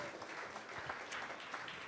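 A brief burst of audience applause, moderately loud and steady throughout, with no speech over it.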